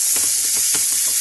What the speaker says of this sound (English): we're going to saute them in butter with a little salt. Hear the sizzle, yes, hear the sizzle.